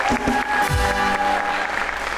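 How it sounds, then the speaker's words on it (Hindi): Studio audience applause at a talk show, a loud continuous burst of clapping that fills the short moment without any voices over it. "तालियां इस बात पे यार"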